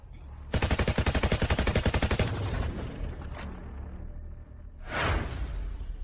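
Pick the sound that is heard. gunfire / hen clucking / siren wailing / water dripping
gunfire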